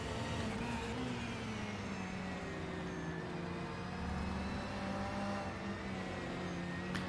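Porsche race car in a racing video game at Spa, its engine a steady sustained drone with shifting pitch that stays loud and unbroken from start to finish, with no talking.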